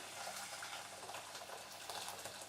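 Steady rushing water pours continuously into a pot, a close, broad splashing fill with no pauses.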